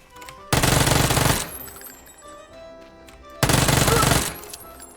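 Two short bursts of rapid automatic gunfire in a PUBG battle royale match, each loud and dense, separated by a pause with faint background game sounds.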